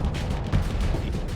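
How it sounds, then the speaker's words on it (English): Plasma cannon firing in the Starsector space combat game, heavy booming volleys that pound in quick succession over a dense, rumbling battle backdrop. "Oh god, he has a plasma cannon too."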